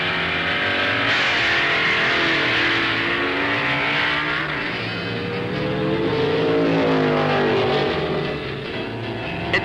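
Superstock drag cars, a Hemi Barracuda and a Mustang at a 1970 national event, roar loudly at full throttle. The engine tones rise and sweep as the cars accelerate, and the sound stays continuous.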